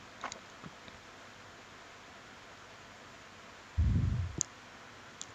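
A computer mouse clicks a few sharp times, quiet and close, in an otherwise near-silent room, with a brief muffled thump partway through.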